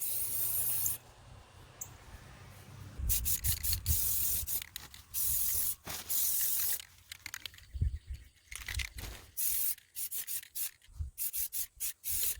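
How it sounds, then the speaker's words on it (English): Acrylic paint sprays onto a freestanding Victorian birdhouse in repeated hissing bursts of varying length with short pauses between them, close and fairly loud, and no talking. "When I spray the acrylic,"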